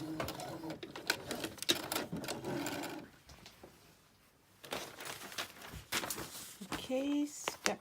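Sewing machine stitching a hem with raw edges tucked under, close uneven mechanical rattling in short runs around a brief pause, with someone speaking at times.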